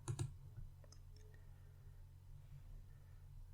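A computer mouse gives a quick double click near the start, followed by a few faint clicks over a quiet low electrical hum.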